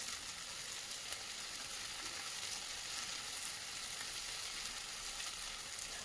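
Cauliflower sautés in hot oil in a pan for a vegetable curry, giving a steady, loud, close sizzle that runs unbroken from start to finish with no talking.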